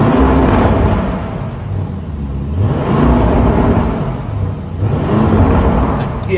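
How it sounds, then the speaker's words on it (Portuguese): A 2022 Lamborghini Urus with active sport exhaust in Corsa mode revs loudly up close, its engine rising and falling in three surging waves with a throaty rumble and no talking. "Escapamento esportivo ativo, agora no modo Corsa."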